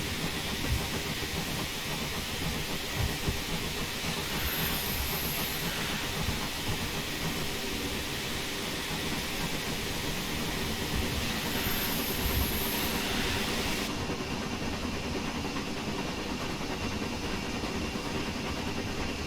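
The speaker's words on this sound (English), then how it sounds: "we'll be seeing the Caledonia Works E4 in the Stainmore condition going past as well" A Caledonia Works E4 locomotive in Stainmore condition rolls past in a train simulator, giving a long, steady rumble with hiss and faint rail clatter, and no voices heard.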